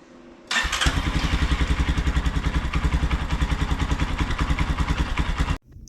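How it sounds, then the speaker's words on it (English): A Honda CRF 230L motorcycle engine starts and settles into a steady, loud, rhythmic thumping idle close by, then cuts off abruptly. "you're going to restart your bike. Let it idle for 3 to 5 minutes"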